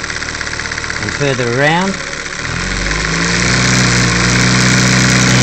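Homemade 12-volt motor driven by an automotive ignition coil, a close mechanical whirring that climbs in pitch as it speeds up, with a person talking briefly over it.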